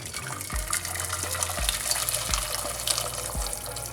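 Boiling water poured from a kettle into a cooking pot in a home kitchen, a steady close gushing stream with a few low clunks of the vessel, no talking.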